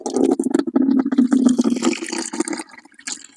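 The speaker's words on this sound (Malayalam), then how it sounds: "നമുക്ക് ടാപ്പ് തുറക്കാം" Water gushes and gurgles from a newly opened tap on a household supply fitted with an automatic water level controller and motor. The flow is uneven and splashy, close by, and tails off toward the end.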